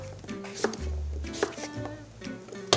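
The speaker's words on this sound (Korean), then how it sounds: "마찬가지로 잘게 썰어서 준비해요." A knife finely chops a 200 g piece of radish on a cutting board for gat kimchi, giving a handful of sharp, close strikes at uneven intervals over a faint tonal background.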